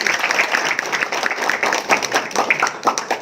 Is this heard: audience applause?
yes